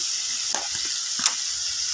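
Tomatoes sauté in a pan for brinjal kulambu, giving a steady soft sizzling hiss with a couple of faint stirring clicks and no talking.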